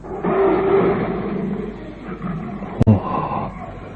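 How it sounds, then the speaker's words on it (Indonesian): A lion's roar used as a sound effect in a radio drama swells as a low, rumbling growl lasting a few seconds, punctuated by a brief sharp thump near the end, with no talking. "Auman singa itu lagi."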